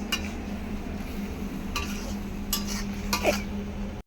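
Bottle gourd curry is stirred in a pan over a wood-fired clay stove, with a low simmering hiss and a few sharp scraping and clinking strokes of the spatula near the end.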